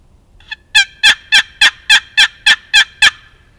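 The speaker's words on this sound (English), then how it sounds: "holding it and doing the yelp this way" Wooden turkey box call worked in a yelp: a soft lead-in note followed by eight loud, evenly spaced raspy yelps in quick, steady rhythm, close and alone.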